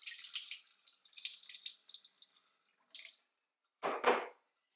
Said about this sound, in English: So I'm just gonna pour off a little bit of this because this is like pure vinegar in here.